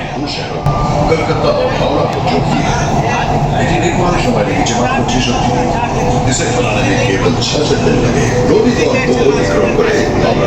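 Inside a moving Kolkata metro train, a steady rumble and rattle of the carriage runs continuously while people talk nearby.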